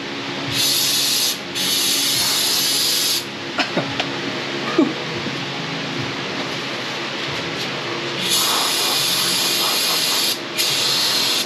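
Brake cleaner sprayed onto Jeep TJ brakes in two long, loud hissing bursts with short gaps, and a quieter stretch of faint clicks and handling sounds between them.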